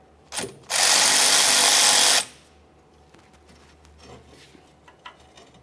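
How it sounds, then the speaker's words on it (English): A powered ratchet with a 14mm socket loosens the rear brake caliper banjo bolt on a 2001-2005 Ford Explorer Sport Trac: one loud, close burst of about a second and a half, then quiet workshop background. "To remove the banjo bolt, we'll use a 14mm."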